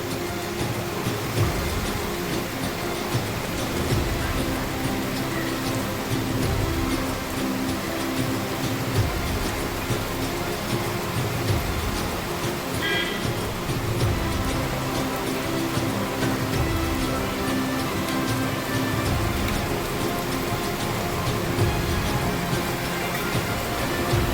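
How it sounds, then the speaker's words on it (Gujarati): A dense, constant roar of heavy rain in Junagadh, loud and unbroken throughout, with a low rumbling wash underneath; no talking. "બહુ જ વરસાદ છે."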